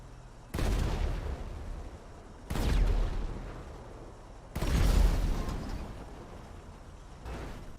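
Stock weapon on a vehicle in GTA 5 Online firing slowly, four separate heavy booming blasts spaced about two seconds apart, each with a rumbling decay, loud and with no talk.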